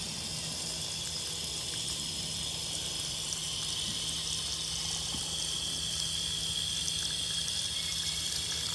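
Water runs steadily from a hose or tap into a container for horses at a barn on a warm spring day, a continuous broadband hiss and splash holding at even loudness throughout, with no talking.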